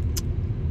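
Inside a car on the ride home from surgery, with a steady low road and engine rumble throughout and a brief sharp click near the start.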